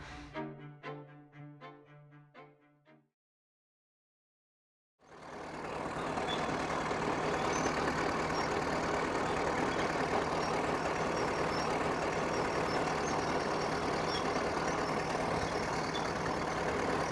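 A diesel tractor used to till fields runs with a steady, even broadband drone that starts abruptly after a short silence. A few bright tonal notes come before it.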